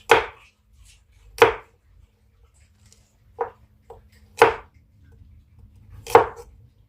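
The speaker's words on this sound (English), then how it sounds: "So the carrots I'm going to cut in smaller pieces too." Carrots being chopped on a cutting board: five sharp knife strikes spaced irregularly over about seven seconds, close and crisp, with quiet gaps between cuts and no talking.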